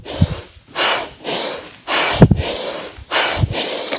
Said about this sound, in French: Ça devient presque une respiration du feu.